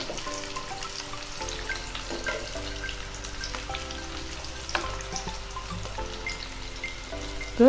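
Onion rings fry in sunflower oil with a continuous bubbling sizzle, quiet and close, with faint utensil taps and a sharp scrape at the end.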